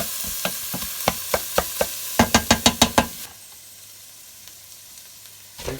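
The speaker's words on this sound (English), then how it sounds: "Now we're going to add the meat." Minced pork added to frying onions in a pan for pasta bake, a series of sharp rhythmic taps and scrapes over a sizzle, quickening into a fast burst, then quieter sizzling, close by with no talk.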